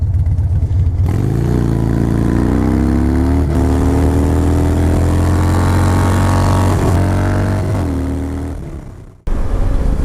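Yamaha Raider motorcycle engine revving loud and close, pitch climbing steadily as it accelerates for several seconds before cutting off abruptly.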